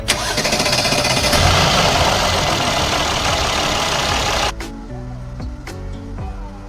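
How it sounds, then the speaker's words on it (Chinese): Mercedes-Benz GLS450 with a 276 V6 engine showing delayed starting, timing fault and abnormal noise, cranking and firing up loudly then settling into a rough idle with sharp knocking ticks, close by with no talk. "发动机故障灯点亮，启动延迟，还有异响。"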